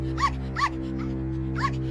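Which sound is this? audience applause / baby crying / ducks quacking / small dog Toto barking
small dog Toto barking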